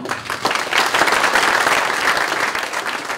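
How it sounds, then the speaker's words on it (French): Audience members clap together after a lecture in a hall, a short burst of full, even applause. "je crois qu'on peut l'applaudir"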